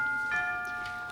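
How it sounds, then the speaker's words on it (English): Faint, distant church bells, the Bow Bells, ringing with sustained, overlapping pitches that hang in the air, soft and far off, with no talking. "Hark! Oh, the Bow Bells."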